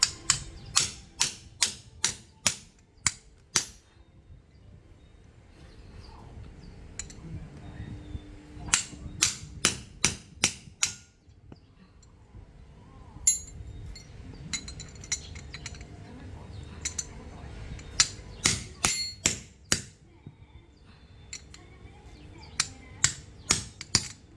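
Sharp metallic hammer strikes in quick bursts of rapid taps, separated by quieter pauses, close by, repeating throughout, driving a pulley bearing out of its housing on a Chevrolet Colorado's 4JK1 engine air-conditioning belt tensioner.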